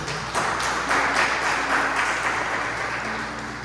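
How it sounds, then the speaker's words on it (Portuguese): A church congregation breaks into applause, a dense, sustained wash of many hands clapping together in a reverberant hall, swelling and holding steady for several seconds. "Se você pode, dá mais uma salva de palmas ao Senhor."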